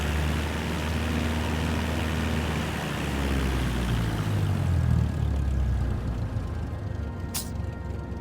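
Airplane in a video game taxiing along a runway, its engine a steady loud droning hum that swells slightly midway, with a brief high click near the end.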